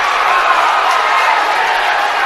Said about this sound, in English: Wow, listen to this crowd.